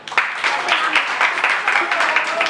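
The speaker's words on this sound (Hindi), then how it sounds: "सबके लिए ताली बजा दो" An audience at an evening religious gathering claps in a dense, continuous burst of applause that stays loud and fairly even. Voices can be heard mixed in.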